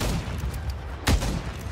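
A single sniper rifle shot rings out in a competitive sniping video game match, a sharp burst standing out once amid steady game ambience.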